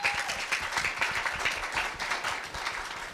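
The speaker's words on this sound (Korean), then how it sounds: "첫 번째 발표자 문채원 학생을 큰 박수로 맞이해 주시기 바랍니다" Sustained audience applause at a middle-school student speech festival at Korea University, a dense steady wash of many hands clapping at full volume throughout, welcoming the first presenter.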